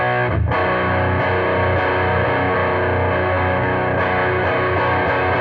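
A BOSS Katana Gen 3 guitar amp on a pushed high-gain setting rings out with sustained, thick distorted chords and a few quick re-struck notes, loud and steady, with no voices over it.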